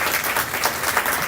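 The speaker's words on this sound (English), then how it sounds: "Let's give them a nice round of applause." Crowd applause at a county fair junior sheep show after young beginner showmanship exhibitors, heard as a brief, dense, even wash of clapping lasting just over a second.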